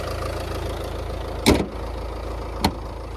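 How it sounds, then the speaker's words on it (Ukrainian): 2015 Fiat Freemont with a 2.0 diesel engine idling at a steady low rumble, close by, broken by two sharp clunks like a door or latch. "Ні, Двигун гарненько працює частенько принципі, все без проблем."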